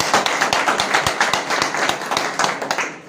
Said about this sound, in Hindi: एक बार मुकेश जी के लिए जोरदार ताली।